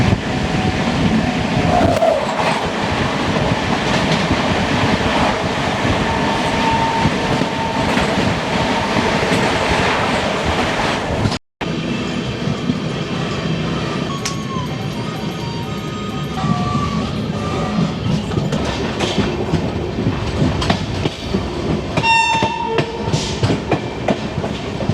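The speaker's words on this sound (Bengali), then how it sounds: "ওই যে আলোটা দেখা যাচ্ছে ওটাই পূর্বাচল এক্সপ্রেস।" The Purvachal Express passes at a level crossing near Madhupur with a loud, continuous rumble and clatter of rolling wheels, heard at close range throughout, with a sharp break partway through as the sound shifts.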